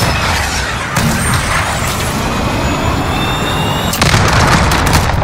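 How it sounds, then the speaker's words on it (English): A cruise missile launch in Call of Duty Modern Warfare, set on the Rust map, comes through as a loud, continuous roaring rush with a surge near the end, mixed with game tones and distant gunfire. "This is Jaguar 3-0, cruise missile away."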